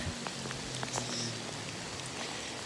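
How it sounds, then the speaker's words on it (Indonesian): Heavy rain pours down on a glamping campsite at D'Bunder View, making a steady, soft hiss with scattered faint drips. "udah hujan lagi deras"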